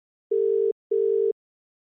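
Outgoing-call telephone ringing tone, two clean electronic buzzing pulses of about half a second each separated by a short gap, loud and alone.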